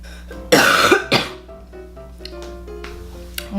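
A woman, sounding congested, gives a sharp cough followed by a quick throat-clearing burst, both loud and close, with quieter background clatter after them.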